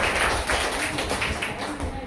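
An audience at a school debate applauds the third speaker with brief, dense clapping that comes in quick uneven pulses, fairly close, with a voice talking over it.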